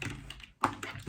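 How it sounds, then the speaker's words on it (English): Typing on a computer keyboard: quiet, close clicks and taps in an uneven rhythm, with one louder keystroke after a short pause. "once I finish typing this out"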